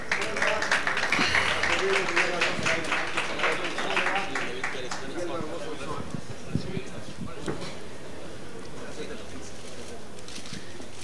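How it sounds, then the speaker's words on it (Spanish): An audience at a closing ceremony for an International Internet Day event gives a senator a round of clapping, a brisk patter strongest at the start that gradually fades over several seconds. "les pido un fuerte aplauso por favor para el senador Barbosa"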